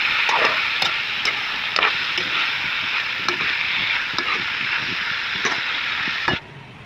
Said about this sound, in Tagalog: Nagtano na ako dito ng bawang, sibuyas at luya. Lagay na natin. Mix lang natin.